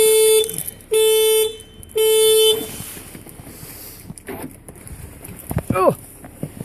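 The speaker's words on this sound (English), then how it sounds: "the patented Rover alarm in full operation there" Rover 400 car alarm blaring three loud, even horn-like blasts close by, then falling silent as someone speaks briefly.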